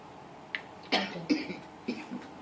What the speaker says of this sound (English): can you give me a good throat clear?